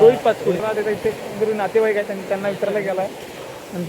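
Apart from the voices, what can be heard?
No distinct noise like a dog, phone or traffic.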